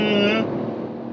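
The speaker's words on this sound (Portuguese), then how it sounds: "principalmente com um motor aqui tricilíndrico meio áspero" A 1.0 turbo three-cylinder car engine with a CVT gearbox runs with a rough, steady hum. A brief tonal burst at the start fades into a low, even drone.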